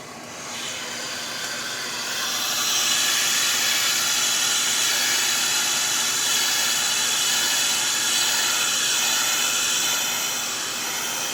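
A hair dryer blows steadily close by while hair is dried in a salon, a continuous whooshing hiss with a faint motor whine that swells slightly after a couple of seconds and holds.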